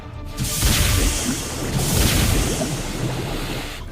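Torpedoes fire from a submarine as a deep, roaring underwater rush and boom that swells and sustains for several seconds, loud and heavy with low rumble.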